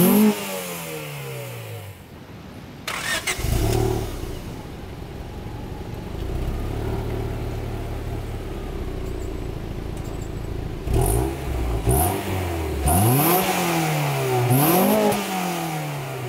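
A Honda Prelude VTi's 2.2-litre VTEC engine revs hard and climbs through the gears on a wet road, its note rising in sweeping pitch with gear changes and throttle lifts, loud and close, with no talking.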